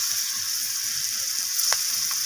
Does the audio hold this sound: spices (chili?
yes